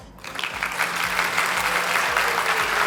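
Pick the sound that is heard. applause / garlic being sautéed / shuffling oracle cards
applause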